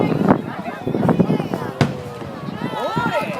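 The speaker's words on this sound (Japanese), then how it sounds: "花火綺麗。" Fireworks burst at the Edogawa fireworks festival in 2010, giving several sharp distant pops and cracks amid crowd noise while people talk nearby.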